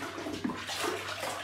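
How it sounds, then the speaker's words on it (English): A paddle vigorously stirs homebrew beer wort in a brew-in-a-bag setup, sloshing and swirling liquid in quick close surges over a brief moment, with no talking. "So you want to give it a vigorous stir."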